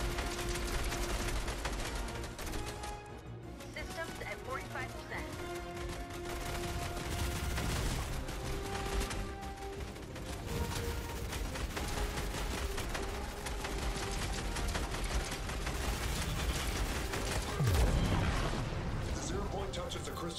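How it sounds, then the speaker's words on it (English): Continuous heavy gunfire and blasts rumble through a Fortnite live event, a dense loud barrage running throughout with a voice speaking over it. "Incoming fire!"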